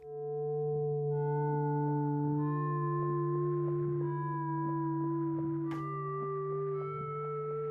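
Omnisphere's Vinyl Beltone sample, built from a circuit-bent Casio SK1, plays as sustained, delicate tones over a steady low drone, faintly grainy, with soft ticks and a brief crackle near the end.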